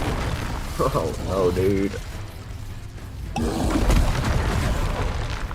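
A Confringo explosion spell in Hogwarts Legacy bursts with a deep, rumbling boom amid magical whooshes during a duel, while a man exclaims in dismay over the effects.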